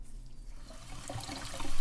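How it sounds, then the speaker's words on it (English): Hot water splashes and runs in a bath as a dyed FRN plastic knife handle from a Spyderco Native 5 Salt is rinsed, with a steady watery wash that grows louder toward the end. "I'm giving it a hot water bath before I do the final reassembly"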